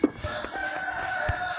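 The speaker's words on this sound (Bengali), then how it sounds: "মুরগির বাচ্চা চুপ থাক।" A chicken in the video game Minecraft clucks repeatedly at close range, in short squawking bursts over a steady game background hum.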